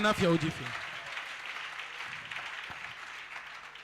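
A church congregation breaks into applause after a short burst of singing or calling out, then the clapping and crowd murmur carry on steadily at a moderate distance.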